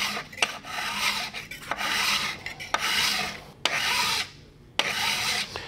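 A file set in a wooden block is rubbed across the steel edge of a card scraper to square it. About five close, gritty rasping strokes sound alone, each separated by a brief pause.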